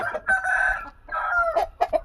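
A Nemali fighting rooster, a country-breed cockfighting bird recovering from injuries after two bouts, crows loudly nearby in one drawn-out call followed by a few shorter clucks.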